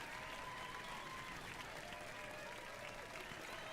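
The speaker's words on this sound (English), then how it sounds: "No, don't applaud too hard" Applause from a crowd of characters in the video game Final Fantasy XIV, a faint, steady wash of clapping held at low volume throughout.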